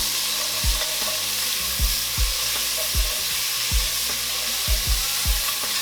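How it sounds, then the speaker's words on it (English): Onions and a tablespoon of minced garlic sizzle steadily in a Dutch oven, a loud close frying hiss broken by regular low knocks and scrapes of stirring. "after onions have seared for us a little bit, we're going to go in with about a tablespoon of minced garlic"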